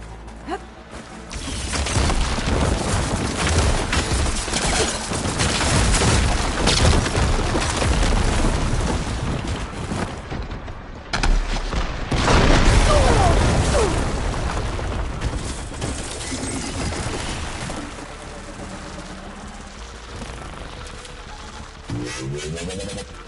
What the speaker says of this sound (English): Hopefully the Tanakh will fire a few shots from that ballista.